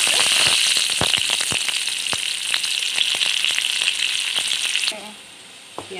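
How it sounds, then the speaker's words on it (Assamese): Panch phoron spices and onion frying in hot oil, a loud, close, steady sizzle studded with sharp crackling pops from the seeds, which drops away abruptly near the end. "আৰু এতিয়া তেলত কেইটামান পাঁচফোৰণ দি দিছোঁ আৰু পিঁয়াজ দি দিছোঁ।"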